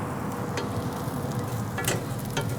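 A Cuban pork sandwich with melting cheese crisps on a hot griddle, giving a steady, close, moderately loud sizzle with soft crackles and a few brighter pops, and no talking.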